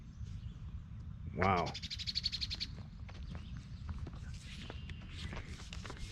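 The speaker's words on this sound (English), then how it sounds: "These birds are great." Birds call and chirp in wildlife beside the New County Home Cemetery in Tallmadge, Ohio, with a brief bright call early on and scattered faint chirps over steady outdoor background noise, while someone speaks briefly.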